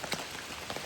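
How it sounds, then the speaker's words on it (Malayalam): Rain patters on umbrellas in a forest at Kakkad in a brief burst of close, dense drops with a few sharper taps. "ഇവിടെ എത്തിയപ്പോൾ ഭയങ്കര മഴയായിപ്പോയി, പക്ഷെ എന്നാലും ഇപ്പോൾ ഒത്തിരി കുറഞ്ഞു."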